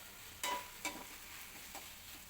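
Fish curry with tomatoes sautés in a pan with a faint, steady sizzle, broken by three soft scraping strokes of a spatula, with no talking.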